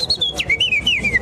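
A person whistles an imitation of warbler song, a bright wavering line of rising and falling notes in quick, continuous phrases, close and fairly loud.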